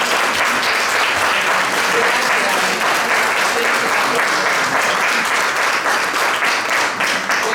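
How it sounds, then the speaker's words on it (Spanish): An audience rises to its feet and applauds a group of book authors, dense, loud sustained clapping that fills the whole stretch evenly without letting up. "sí me gustaría tal vez que se paren y les podamos aplaudir"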